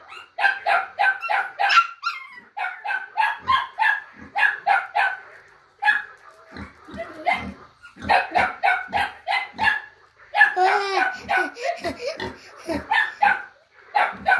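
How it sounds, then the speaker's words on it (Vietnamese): A young hunting-breed puppy barks close by in rapid, high-pitched bursts of yips, pausing briefly between volleys, with occasional whimpering. "Con chó con"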